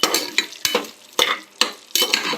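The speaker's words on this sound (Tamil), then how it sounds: "பட்டை இலை எல்லாம் போட்டாச்சு. நெக்ஸ்ட்டு கிராம்பு, ஏலக்காய் போட்டாச்சு." Whole spices, cinnamon, bay leaf, cloves and cardamom, fry in hot oil for prawn biryani, with a steady sizzle broken by four or five sharp rhythmic scrapes of a spoon stirring the pan, close and loud.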